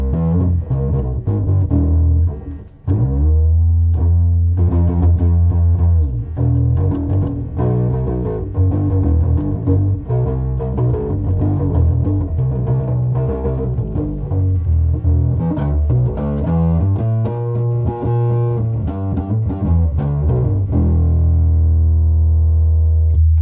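A distorted bass guitar played through a Wampler distortion pedal plays a sustained, gritty riff, loud and thick, with notes ringing out one after another and no voices.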